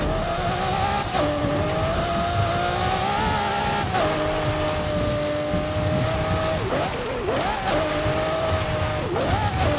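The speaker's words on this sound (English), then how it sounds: "so here I am, Lamborghini Murcielago. This is a great vehicle," A Lamborghini Murcielago in a racing video game holds a steady, loud engine drone across the run, its pitch dipping and climbing with gear shifts and brief revving surges near the end.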